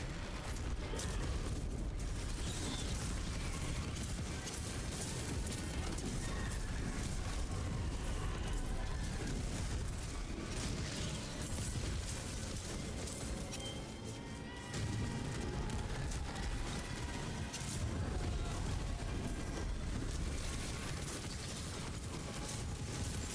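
A chain of corpse explosions sets off in an action role-playing game during a Bloody Mess build, dense rapid booms and crashes piling over one another without a break, loud and busy throughout.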